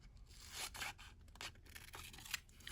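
Scissors snipping through paper while making a scrapbook layout, a few short quiet cuts and rustles, close and soft with no talking.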